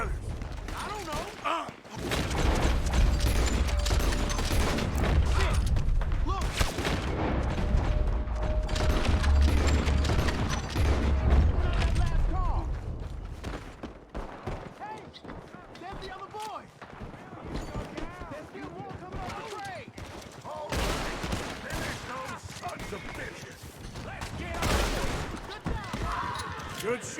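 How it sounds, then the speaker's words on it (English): Repeated gunshots crack through a Red Dead Redemption 2 shootout, dense volleys in the first half thinning to scattered shots later, with voices talking in between. "Good shooting, kid."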